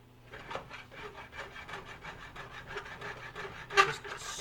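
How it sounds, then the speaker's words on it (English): A spatula scrapes excess cooked, cheesy eggs off a pan in a run of rhythmic, close rasping strokes, with a sharper scrape near the end. "Just scrape off the excess eggs."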